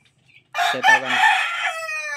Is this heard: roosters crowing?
yes